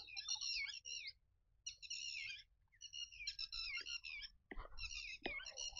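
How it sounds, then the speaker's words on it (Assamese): Birds calling outdoors beside a village wetland in Assam, koels among them, with repeated bright chirping phrases in short bursts, close and clear against a quiet background, plus a couple of brief knocks near the end. "পিছফালে কি ধুনীয়া ঠাই, এইবিলাক কুলি, কেতেকী, ঢেৰ চৰাই আছে।"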